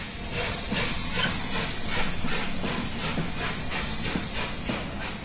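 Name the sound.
steam train standing at a station platform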